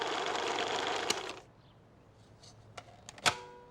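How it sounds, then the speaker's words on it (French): A blender whirs loudly while mixing crêpe batter, then cuts off after about a second and a half, leaving a few faint clicks and a sharp knock in the near quiet. "Et maintenant, on va mixer. Bon, n'hésitez pas à laisser tourner, hein."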